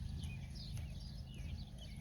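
A horse being ridden at a walk, moving straight ahead, produces soft, steady hoof clops over a low rumbling outdoor background, with faint birdsong higher up.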